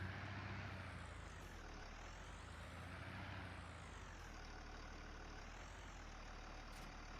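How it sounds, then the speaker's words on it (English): A heavy truck in Farming Simulator 19 rumbles steadily with a low, droning engine while braking hard, the sound continuous and fairly even throughout with slight pitch shifts and no talking. "That's me slamming on the brakes."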